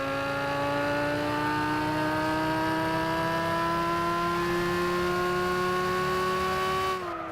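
A slow car in a racing video game accelerates steadily, its engine tone climbing in pitch over several seconds as one continuous, fairly loud drone, then cutting off abruptly near the end.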